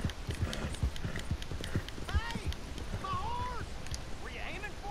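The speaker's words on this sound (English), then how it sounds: "Hey! My horse!" Horse hooves clip-clop steadily in Red Dead Redemption 2, a regular trotting beat under a noisy outdoor backdrop with voices talking over it.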